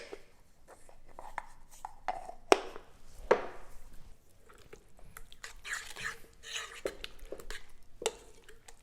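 Herb ranch dressing with chopped garlic and salt is stirred in a bowl, giving soft scraping and irregular clinks of utensil against the dish, quiet and close, with a couple of sharper taps.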